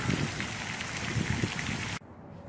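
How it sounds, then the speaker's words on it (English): A water fountain splashes into a park pond in a steady, close rushing patter for two seconds, then cuts to a much quieter background. "There is a beautiful water fountain here."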